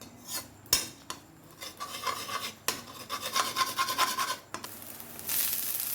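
Egg fried rice being stirred in a pan, with cooked rice tossed into fried egg; a steady, close scraping and rasping of the utensil against the pan, with a few sharper clicks and no talking.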